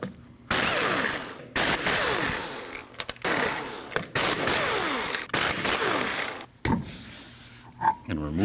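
A ratchet clicks rapidly in repeated bursts, loosening 19mm lug nuts on a Subaru Forester rear wheel; the close, loud bursts are separated by brief pauses and end with a few clanks.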